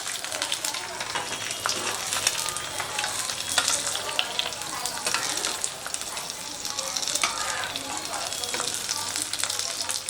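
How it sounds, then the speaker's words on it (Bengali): Anda ghotala egg mixture, seasoned with salt, red chilli powder, black pepper and coriander leaves, fries in a pan with a dense, continuous crackling sizzle, close and even, with brief scraping touches. "নিচটা ভালোভাবে যেন ভাজা হয়ে যায়।"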